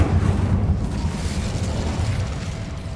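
Incendio fire spell cast in Hogwarts Legacy, a dense, roaring burst of flame with a heavy low rumble that holds steady for about three seconds, loud and close.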